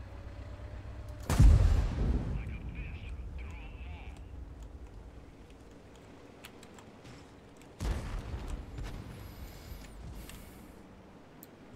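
In World of Tanks, a Borsig tank destroyer's gun fires with a heavy booming blast that rolls off into a long rumble. A second, softer shot follows several seconds later amid game noise, and someone talks over it.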